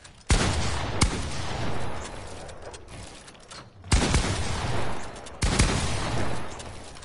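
A pump shotgun fires in a shooting video game, four heavy, booming blasts spaced irregularly over several seconds. Each shot leaves a long, loud wash of noise and rumble before the next one lands.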